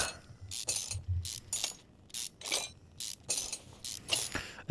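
Ratchet wrench clicking in bursts while pulling off mufflers in Car Mechanic Simulator 2021, with about a dozen short, bright rattling ratchet runs in an irregular rhythm, close and clear with no talking.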